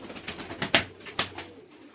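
Pigeons coo in a domestic pigeon loft, with two short louder calls standing out over a soft, steady murmur of cooing at moderate distance; no talking.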